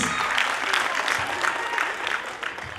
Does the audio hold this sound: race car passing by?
no